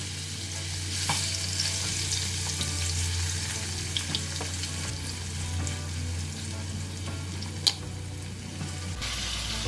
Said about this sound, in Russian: И теперь немного обжарю это мясо на сковородке на сильном огне